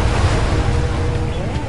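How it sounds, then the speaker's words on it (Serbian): A roaring ocean wave surges in a cartoon surfing scene, a loud, broad rush of water and wind that fills the short moment without a break. "Ako se ne sklonim, talas će da me smrvi."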